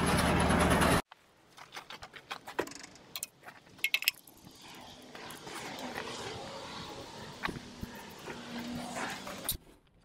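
A repaired hay elevator and firewood conveyor running with a faint steady mechanical drone and scattered clanks and rattles, after a brief loud burst at the start.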